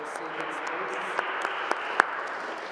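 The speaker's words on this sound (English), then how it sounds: "Let's give them a round of applause." A church congregation at a Three Kings Day service applauds the choir, a soft spread of clapping with a few louder claps popping out, sounding moderately distant.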